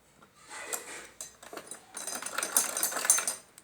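A sewing machine stitches salwar fabric in short bursts, a soft whirring rattle that starts, pauses briefly, then runs longer and louder, heard up close with no talking.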